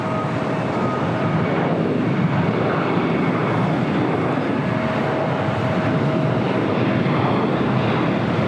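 A jet airliner takes off at LAX, a loud, sustained roar of engines filling the whole stretch with steady broadband power and no voices over it.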